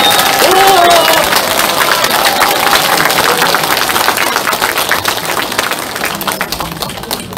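An audience applauds the party leader's wife at a Korean political party book launch event, a loud, dense clapping roar mixed with crowd noise and some speech, fading slightly over several seconds.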